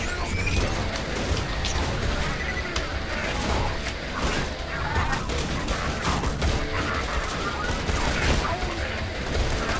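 Gunfire in the video game Borderlands 2, dense rapid shots and crashing bursts filling the whole stretch, loud and continuous.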